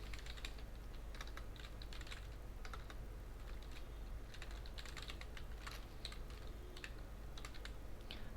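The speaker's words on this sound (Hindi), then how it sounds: "इसके लिए मैं टाइप कर रहा हूँ" A domain name is typed on a computer keyboard in a light, steady patter of faint key taps over a constant background hum, with no talking.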